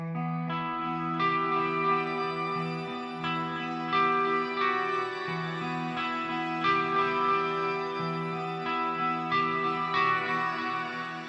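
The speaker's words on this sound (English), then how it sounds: "I added a bit of shimmer reverb with some analog delay," A low, deep-toned Aria Pro Jet baritone guitar plays slow ringing notes bathed in shimmering reverb and analog delay, with trailing repeats and airy high overtones.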